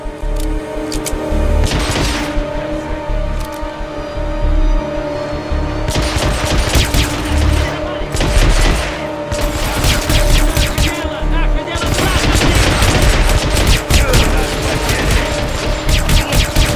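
Dense bursts of gunfire and explosions in the video game Hitman: Absolution crackle almost continuously, loud and close, with brief lulls between volleys and a voice speaking over the action.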